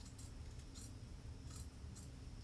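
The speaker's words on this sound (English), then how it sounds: "You're just cutting close to the seam." Scissors snip through fabric close to a freshly stitched seam on a garment sewn from a McCall's 8115 pattern, giving four crisp, close cutting bursts over a steady low hum.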